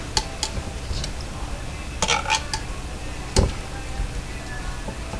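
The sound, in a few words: stirring roast chicken, onions, carrots and celery with a fork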